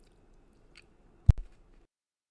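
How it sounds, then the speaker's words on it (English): A person chewing close to the microphone gives a single brief, sharp crunchy burst followed by a few softer squishy bites, with near silence around it. "Sorry, guys, I was chewing."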